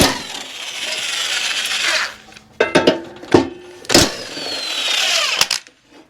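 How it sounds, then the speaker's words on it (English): Electric impact wrench loosening 15/16 blade nuts on the mower deck of a Troy-Bilt Pony riding mower, whirring bursts broken by sharp metallic clanks and clatter of parts, close by with no talking. "the electric impact does good work on tough to get off bolts"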